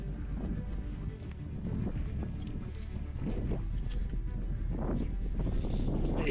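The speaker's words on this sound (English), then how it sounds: "the wind's starting to pick up again" Steady wind gusting across an open river bed in cold weather, a continuous low roar and buffeting close to the microphone, with no talking.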